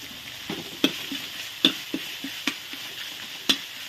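Curry paste fries in coconut cream for a pumpkin curry, giving a soft continuous sizzle with a few sharp ticks and scrapes from a stirring spoon at irregular intervals, close by and with no talk.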